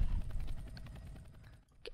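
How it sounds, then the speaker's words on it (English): Roblox Redwood Prison game helicopter, a short burst of rhythmic rotor chop with low engine rumble, fairly close, fading toward the end and cut by a brief high click. "People are trying to shoot my helicopter."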